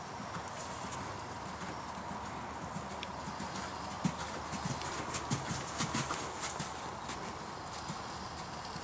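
A horse canters through a dressage movement, its soft, faint hoofbeats thudding in an uneven rhythm against steady background noise.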